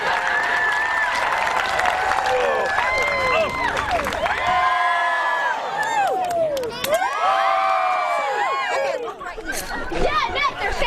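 A large Renaissance faire audience at a joust claps and cheers loudly, with whoops, shouts and children's voices rising in repeated waves of applause.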